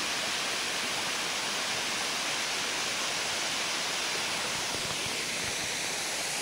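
Sarisua waterfall roars in a dense, steady rush of falling water that fills the whole clip without pause, loud and close with no voices.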